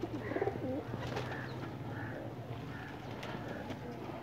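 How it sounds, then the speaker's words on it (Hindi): Pakistani flying pigeons cooing outdoors under a cloudy sky, soft repeated throaty coos from several birds at a moderate distance over a steady low background hum. "इस कबूतर का शौक़ करें जी।"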